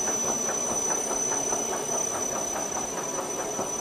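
A winery pump moves freshly pressed Dolcetto wine out of a pan and into a tank, a steady, rapid rhythmic chugging with a constant high whine, continuous and close.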